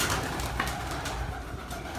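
Pigeons in a loft coo steadily at close range over a dense, continuous bed of bird noise, with no voices present.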